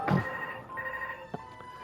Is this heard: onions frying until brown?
no